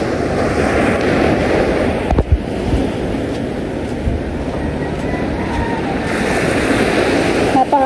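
Waves wash steadily along a calm sea with many boats about, making a loud, continuous surf rumble mixed with wind buffeting the microphone. A faint voice is heard briefly.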